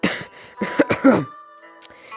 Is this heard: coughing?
yes